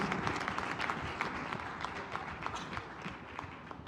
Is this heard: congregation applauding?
yes